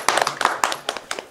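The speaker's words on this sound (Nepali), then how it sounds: "उहाँको लागि पनि जोरदार तालीले हार्दिक सम्मान व्यक्त गर्दछौँ" Several quick, sharp handclaps from an audience at a Sonam Lhochar community gathering in Nepal, sounding as a sparse, uneven burst of applause that is fairly close and moderately loud.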